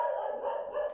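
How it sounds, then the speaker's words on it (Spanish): A dog barks once in a short, sustained, moderately loud bark, heard alone without talk. "es que el ladrido me desconcentra"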